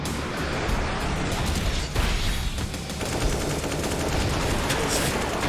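Gunfire from a game fills the clip, a dense, continuous roar of rapid shots and bursts at steady loudness with no pauses and no talk.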